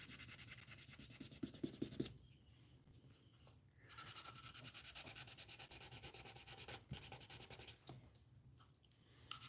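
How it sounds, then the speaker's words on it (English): Sandpaper rubbing back and forth over a plastic part of a 1/60 NeoGrade Gunpla Sazabi model, 600 grit, making steady close scratchy strokes throughout with a short burst of quicker rubs near the start. "I'm using as a little slightly more aggressive sandpaper to get out errors"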